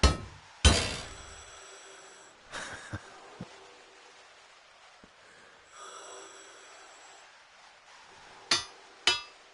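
Hammering to fix things in the PlayStation VR game Mars Odyssey: a few sharp metallic knocks ring out at uneven intervals, with quiet gaps between, then two closer strikes near the end.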